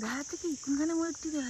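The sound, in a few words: crickets chirping in forest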